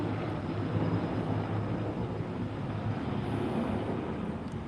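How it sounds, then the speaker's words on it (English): A helicopter flying overhead at a theme park safari, a broad loud rumbling drone that stays steady throughout with no talking over it. "Oh, that plane is loud. Oh, it's a helicopter."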